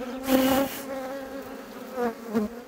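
Honeybees buzz around an open hive during an inspection of brood frames, a close, droning hum that swells and fades with a few louder passes near the microphone.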